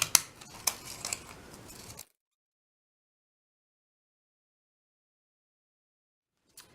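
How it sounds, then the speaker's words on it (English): Scissors snip through a paper strip for a weaving craft, a few sharp crisp cuts over about two seconds, then silence with one faint click at the end. "Again, I'm going to cut through the middle, cut."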